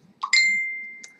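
A single bright electronic ding rings out clearly in a quiet room and decays slowly, followed by a faint second tick near the end.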